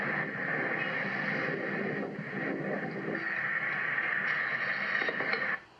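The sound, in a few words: filling a car with gas at a gas station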